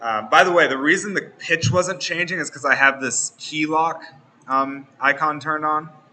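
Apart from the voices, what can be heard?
No everyday noises stand out.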